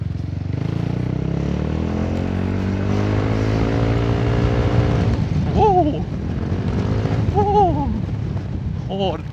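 A Yamaha Forza 350 scooter engine with a loose exhaust baffle, droning loud and close while riding, its pitch climbing steadily under acceleration, then easing into rough revving with short rising-and-falling pitch swoops.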